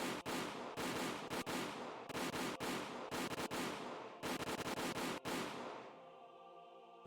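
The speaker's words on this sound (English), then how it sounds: "The sound of the gunshots echoed in the silence." Gunfire from soldiers shooting at escaping people, a dramatized scene: repeated loud bursts of rapid shots in clustered volleys, cut by short gaps, ending with a fading ringing echo.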